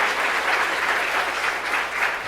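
A church congregation bursts into loud, dense applause, a steady wash of many hands clapping at once, close and sustained throughout.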